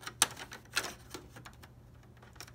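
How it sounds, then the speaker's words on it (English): A PS4 Pro hard drive cover is pushed into place, giving two sharp close clicks followed by softer plastic taps and rattles, alone with no talk. "And then you just push till you hear a click."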